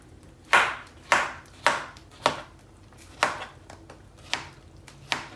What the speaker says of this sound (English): for me I'm going to cut them to have small circles